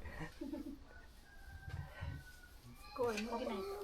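Domestic chickens at a small poultry farm cluck in short, scattered bursts, with one louder run of calls near the end, faint and somewhat distant, mixed with quiet human voices.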